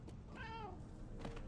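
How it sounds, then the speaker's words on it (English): A cat in the video game Murdered: Soul Suspect gives one faint, drawn-out meow inside a house near the attic, over low background rumble, followed by a soft thump. "That's the cat."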